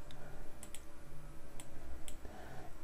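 A computer mouse clicks several times at an uneven pace, with sharp, quiet, close taps over a low background hum. No one speaks over them.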